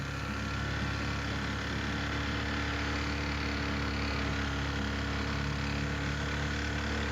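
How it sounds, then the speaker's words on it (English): Boat outboard engine running steadily in an alligator wildlife refuge, a constant loud drone with no change in pitch or level and no voices. "Let's cut off the engine for a minute and get some peace."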